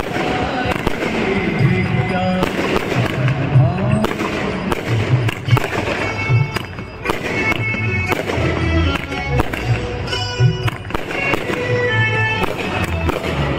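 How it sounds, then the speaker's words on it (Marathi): Firecrackers burst during a Sai palanquin procession on the Uran-to-Shirdi pilgrimage, marking its arrival at a rest stop: a long, irregular string of sharp bangs and crackles, some close and loud, others overlapping in quick clusters, with crowd noise beneath. "पालखी पोचल्याचा आनंद फटाके वाजवून या ठिकाणी केला जातो आहे"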